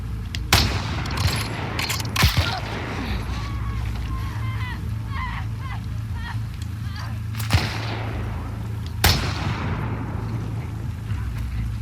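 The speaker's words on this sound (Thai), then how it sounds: "ดูเหมือนว่าฝั่งนู้นเขาก็จะยิงสวนมาได้เหมือนกัน" Gunfire exchange in the video game The Last of Us Part II, several sharp shots spaced apart over a rumbling background, with someone talking over the action.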